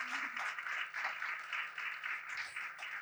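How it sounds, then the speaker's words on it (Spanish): Faint, continuous audience applause for a guest at a literary talk, a steady muffled patter with a low hum underneath and no distinct individual claps. "un aplauso enorme para ella."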